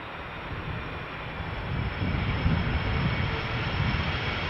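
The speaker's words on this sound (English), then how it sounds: "before we miss the landing of Delta Flight 136, arriving from Detroit, Michigan. A330-300, let's look and listen." Delta Air Lines Airbus A330-300 jet airliner landing at Schiphol, a broad, steady engine roar that swells a little louder as it comes closer, with no voices.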